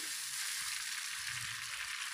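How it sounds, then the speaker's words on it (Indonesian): Sauce bubbling and sizzling steadily in a pan at a boil, a dense, even hiss with soft low bubbling underneath, no voices. "Nah, ini sudah mendidih."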